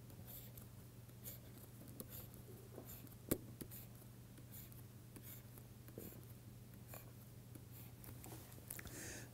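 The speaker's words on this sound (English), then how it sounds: "let me write down the lattice again." Chalk or marker scratching out a crystal lattice diagram on a lecture board, steady faint strokes with small taps, continuing for several seconds with no talking.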